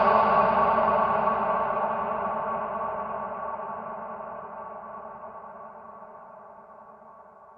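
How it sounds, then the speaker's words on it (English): A recorded clip in Ableton rings out through a long reverb tail, a dense sustained wash that starts fairly loud and slowly decays over about seven seconds, with no voices. "We've got a nice little reverbed bit there"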